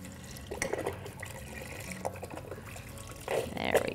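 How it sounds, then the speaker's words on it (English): Beef broth is poured from a carton into a 6-quart Instant Pot, giving intermittent liquid splashing and gurgling in bursts, fairly close, with faint background noise. "we're gonna add 4 cups of beef broth, which is this whole entire container"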